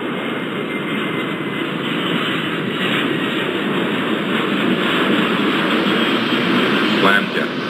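A jet airliner takes off in the airport video game Airport Madness 4 at a desert airport, its engines giving a loud, steady roar throughout.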